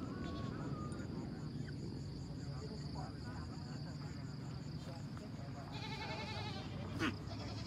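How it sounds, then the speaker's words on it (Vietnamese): Goats bleating at a large livestock market in northwest Vietnam, nasal bleats rising over a busy crowd murmur while someone talks nearby, with insect-like chirping in the background. "đây có mấy con dê con này"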